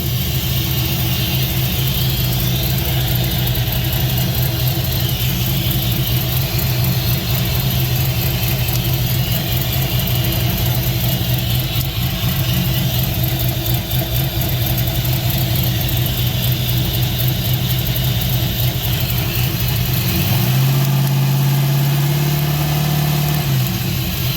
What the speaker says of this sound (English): Definitely got an exhaust leak over here again.